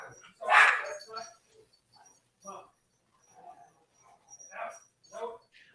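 A dog barks in short, separated bursts with quiet gaps between, close and fairly loud, one strong bark followed by smaller yips and whines.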